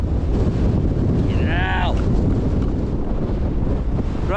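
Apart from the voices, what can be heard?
strong wind on mountain summit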